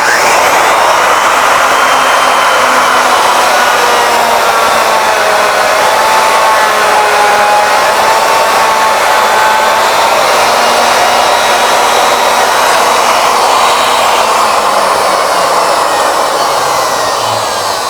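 A router mounted on a Legacy ornamental mill cuts around the circumference of a workpiece, giving a loud, steady high-pitched whine with slight pitch wavers as it bites, continuous and close with no talking.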